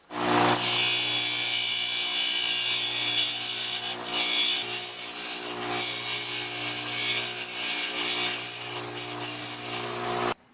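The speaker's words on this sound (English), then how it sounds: "Before you use your carbon arc torches, you want to make the tip of the rods pointy. I use my grinder for that." A grinder runs steadily for about ten seconds while sharpening the tips of carbon arc torch rods, giving a loud, continuous high whine with abrasive rasping and no pauses.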